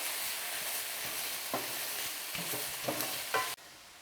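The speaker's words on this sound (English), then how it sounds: "So you want to get all those ingredients in there, then give it a big stir." Garlic and other ingredients for a sweet-and-sour chicken dish being stirred in a frying pan: a soft steady sizzle under several scraping, clattering stirring strokes, ending with a sudden cutoff, and no speech.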